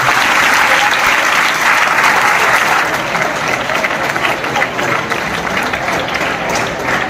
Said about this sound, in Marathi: नीलसाठी जोरदार टाळ्या वाजवा